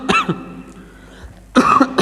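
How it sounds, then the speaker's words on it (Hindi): A man with a cold coughs a few times in short, close bursts, followed by a pause and then another harsh cough, with no talking over it. "थोड़ा खांसी है, तबीयत खराब है"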